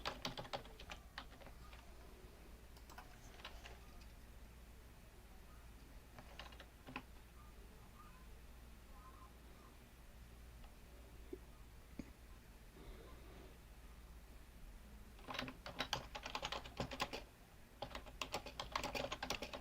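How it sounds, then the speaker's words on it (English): Rapid typing on a computer keyboard, with dense bursts of fast key clicks at the start and again near the end and sparser tapping in between, close and fairly quiet. "Somebody's typing fast"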